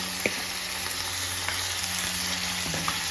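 Mutton frying in a pan with onions and green chillies, a dense, steady sizzle up close with occasional soft stirring scrapes and clicks, no talking.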